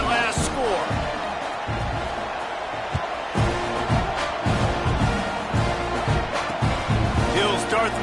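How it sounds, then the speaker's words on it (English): A college football stadium crowd buzzes steadily after a score, ahead of a kickoff, with a broadcast commentator talking over the loud, continuous roar throughout. "this crowd is buzzing after that last score"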